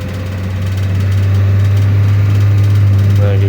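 An automatic scooter engine holds a steady, loud drone near 4000 RPM while stuck in first gear, a constant low hum without gear changes.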